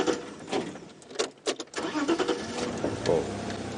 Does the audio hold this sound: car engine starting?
yes